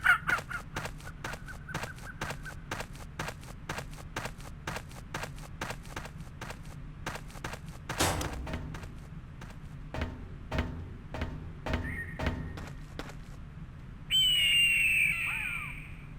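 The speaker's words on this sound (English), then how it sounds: "Every so often you'll hear a very out-of-place kookaburra or a red-tailed hawk in the distance" Jungle ambience in the Trespasser video game with a distant bird calling in a repeated series of sharp caw-like notes, faint and sporadic, followed by a louder screeching hawk cry at the end.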